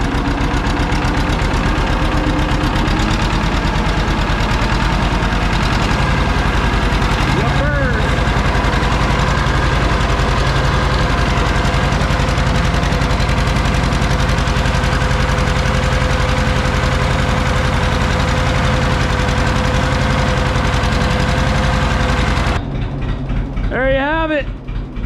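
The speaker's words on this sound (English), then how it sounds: "John Deere 530 is done, fixed. Love it. There, you just can't beat that purr" A John Deere 530 tractor engine idles steadily and loud at close range, a continuous rumbling throb that cuts off near the end, leaving a brief rattle and softer noise.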